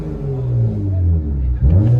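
Cabin view of a 2003 Honda Accord 3.0L V6 with straight-pipe dual exhaust into 5-inch tips, a deep droning rev that holds steady and then swells again near the end, heard from inside the car.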